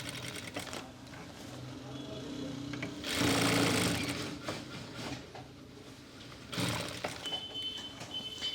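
A sewing machine stitches a pocket on a pheran, running in two loud, whirring bursts, one near the middle and one toward the end, over a steady background hum.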